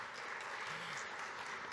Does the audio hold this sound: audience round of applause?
yes